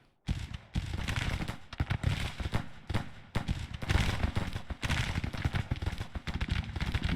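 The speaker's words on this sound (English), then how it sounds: "Looks like we're under artillery fire now." Artillery and gunfire from a Civil War battle in Grand Tactician: The Civil War, loud, rapid booms and cracks overlapping almost without pause, no voices.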